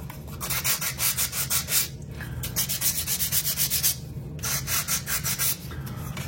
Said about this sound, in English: trim him off, and just lightly sand it